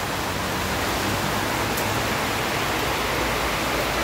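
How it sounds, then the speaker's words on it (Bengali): Heavy rain pours steadily over a flooded street in Sylhet, a dense unbroken hiss that stays loud and even throughout with no voices. "সন্ধ্যার পর থেকে এরকম ঝুম বৃষ্টি শুরু হয়েছে"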